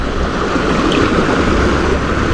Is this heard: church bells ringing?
no